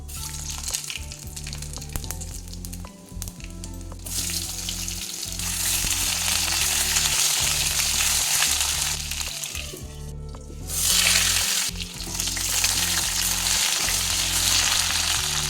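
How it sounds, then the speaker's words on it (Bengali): Cumin seeds and potatoes fry in hot oil with a loud, dense, continuous sizzle that swells as the potatoes go in, with occasional pan clatter and stirring. "এবারে তেলের মধ্যে দিয়ে দিচ্ছি একটু জিরা ফোড়ন এবারে আলু দিয়ে দেবো"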